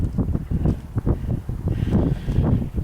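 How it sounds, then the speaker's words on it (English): Wind gusting outdoors on a sunny, chilly winter day, buffeting the microphone in a steady, loud, close roar with low rumbling surges and no talking. "And it's windy."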